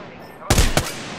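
Gunfire in a shooter video game: two loud, sharp bursts about a quarter second apart, standing out from a low background hum.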